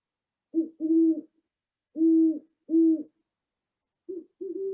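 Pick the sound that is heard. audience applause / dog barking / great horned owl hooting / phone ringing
great horned owl hooting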